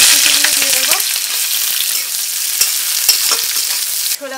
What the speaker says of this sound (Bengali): কড়াইতে তেল দিয়ে দেব, শুকনো লঙ্কা দিয়ে দেব, একটা তেজপাতা, একটু কালো জিরে, একটু নাড়াচাড়া করে দেব ফোড়নটা। এবার পেঁয়াজগুলো দিয়ে দেব